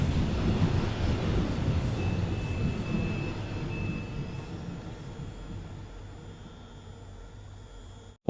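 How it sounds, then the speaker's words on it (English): A Class 350 electric train pulls into a platform at Rugby station in a Roblox game, a steady rolling rumble with a faint high whine that eases as it slows, heard alone without talk. "Then another Class 350 just arrived on platform 2."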